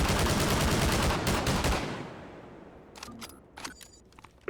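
A Half-Life 2 pulse rifle fired in Garry's Mod, first a loud rapid burst of shots that fades to a tail, then a few sharp mechanical clicks and clacks.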